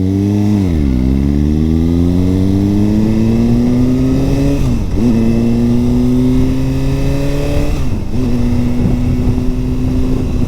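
A Suzuki GSX-R1000 sportbike on a road ride roars loudly and close, its engine pitch sweeping down and then climbing again at each of about three downshifts.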